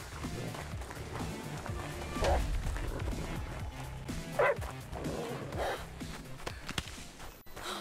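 Dogs in the video game Die Young, heard as scattered barks and yips under steady game ambience, with a few louder outbursts.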